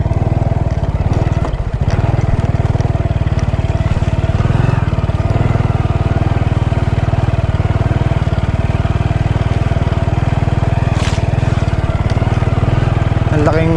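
A motorcycle engine runs continuously nearby with a loud, steady chugging drone, holding an even pace throughout.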